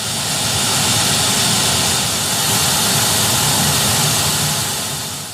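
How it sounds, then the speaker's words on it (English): An HAF F-16 Block 50 fighter jet flying low level through mountains, a loud broadband jet roar that stays full and steady throughout, swelling and easing slightly as it passes, with no voices. "flying an F-16 low level in the mountains"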